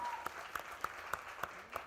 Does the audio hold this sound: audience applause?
yes